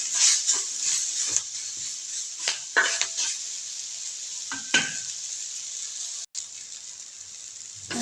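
Fenugreek (methi) greens sauté with ghee in a hot pan, a steady close sizzle punctuated by several scraping stirs of a spatula against the metal, with one brief dropout near the end.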